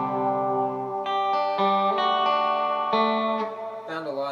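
An electric guitar run through the reverb effect of a Line 6 Micropod plays sustained notes and chord changes, each ringing out with a spacious, lingering tail, heard alone and clearly.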